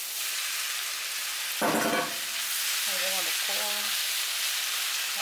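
Noodles sizzle loudly and steadily in a wok on a home cooktop, a dense close frying hiss. A brief clatter of stirring and a couple of short voiced sounds cut through it.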